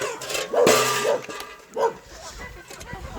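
A neighbour's dachshund barks a few times in the distance, sharp and intermittent, amid quiet outdoor background noise.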